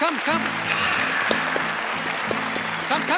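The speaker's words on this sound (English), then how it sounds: "Good applause for him, please." Applause from a TV magic show audience rises under a prominent voice, with music-like tones running through the steady crowd clapping.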